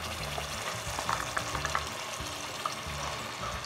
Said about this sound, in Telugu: ఇది కొంచెం వేడైన తర్వాత మనం ముందుగా ప్రిపేర్ చేసుకున్న ఈ పేస్ట్ను యాడ్ చేస్తున్నానండి నేను ఇందులో